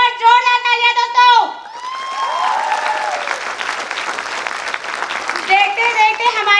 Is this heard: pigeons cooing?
no